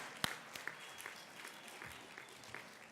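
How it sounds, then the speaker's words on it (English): New students at a university investiture ceremony give themselves a round of applause, heard as faint, distant scattered claps in a large hall, with a few sharper nearer claps standing out. "give yourselves a round of applause."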